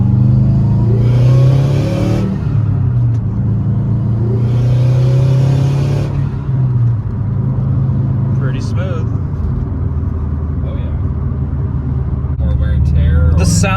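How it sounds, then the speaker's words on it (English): Turbocharged Subaru WRX with an external wastegate, accelerating hard on a road loop: a steady loud engine drone with two rising surges of boost and a hissing wastegate rush, heard from inside the car with faint talk. "sound of the external wastegate just a byproduct of how the wastegate controlling the boost"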